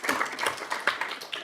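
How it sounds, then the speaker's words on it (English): A short burst of clapping from a small group at a city council meeting, brisk uneven claps close by, fading out after about a second. "so we'll give him a clap"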